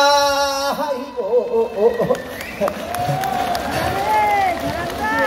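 An outdoor audience at the Eumseong Pumba festival claps along during a pumba performance on an outdoor riverside stage. The clapping sits under a man's loud, singing voice and the crowd's noise.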